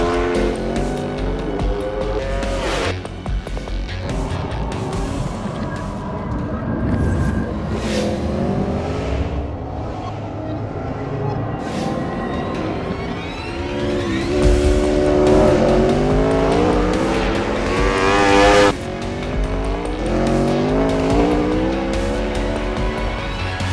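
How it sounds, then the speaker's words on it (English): An Aprilia RSV4 racing motorcycle screams around a track, its engine revving high through rising gear changes, with loud, continuous passes throughout. "Aprilia RSV4. This bike is awesome. Designed for racers."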